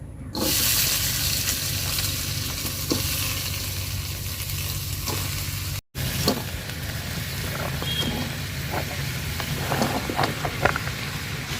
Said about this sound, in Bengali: তেল গরম হয়ে গেছে সবজিগুলা দিয়ে দিলাম